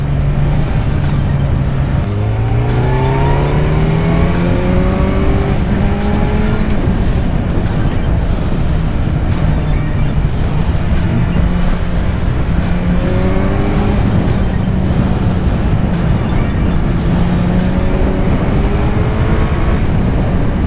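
A Kawasaki Z900 motorcycle engine revs up and down through a succession of bends, loud and close, pitch climbing with each gear then dropping on deceleration, with wind rush throughout.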